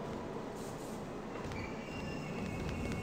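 A train in the wrestling game Wrestling Empire rumbles steadily, with a constant rolling roar, faint wheel squeal and a few high metallic tones, loud and continuous throughout.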